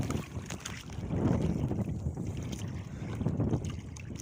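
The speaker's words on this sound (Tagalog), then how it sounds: "Yan po yung dagat." Sea waves and gusting wind heard from aboard a boat on a rough sea under a dark sky, a steady rushing wash with louder swells rising and falling, no voices.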